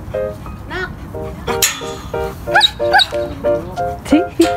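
A run of repeated dog barks and yelps, close and lively, coming in uneven bursts that grow busier toward the end.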